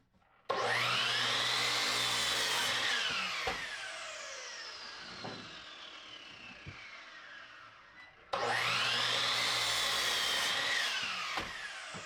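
A power saw cuts through a 2x4 wooden board, a loud whining rip that starts abruptly, holds and slowly falls in pitch as the blade works through, then a second cut starts sharply near the end.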